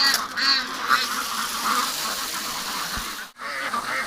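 Ducks quack repeatedly in a noisy, overlapping chorus near the listener on a farm pond, with steady background noise and a short break near the end.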